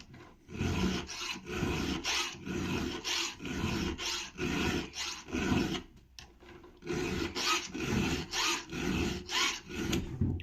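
A hand file rasps across a chainsaw chain in a steady series of close, scratchy strokes, each pass a rhythmic rub with a brief pause midway before the strokes resume.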